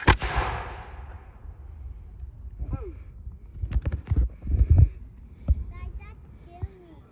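A Revolutionary War musket volley goes off in one loud, sharp boom at the very start and rolls away outdoors, followed by scattered clicks, knocks and people talking nearby.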